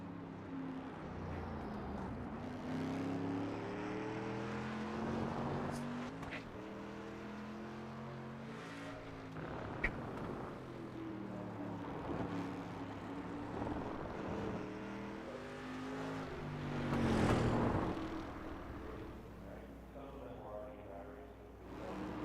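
Tube-frame race car in a league qualifying lap, coming out of the final corner toward the start-finish line, its engine droning with rising and falling pitch and swelling louder near the end, under steady commentary.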